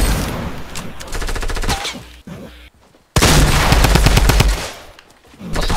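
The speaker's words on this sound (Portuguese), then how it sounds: "Nossa, deu um tiro de heavy" Heavy weapon gunfire in the Fortnite video game: loud, rapid bursts of shots with a brief lull, then another dense barrage, close and dominant with no talk over it.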